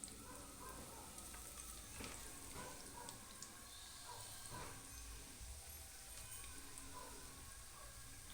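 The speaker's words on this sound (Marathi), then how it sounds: "चला अजून थोडीशी टाकूया भजी टाकून" Onion bhaji fritters frying in a pan of hot oil, a steady close sizzle and bubbling with faint scraping taps of a spoon, no voices over it.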